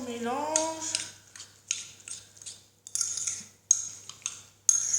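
A metal spoon clinks and scrapes against a bowl while mixing a face scrub, in short irregular bursts with quiet gaps between them. A brief voice-like tone is heard at the start.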